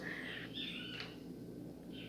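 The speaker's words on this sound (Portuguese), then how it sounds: "Olha o passarinho cantando." A small bird sings in short chirping phrases, fairly faint and a little distant, over a steady low background hum with no talking.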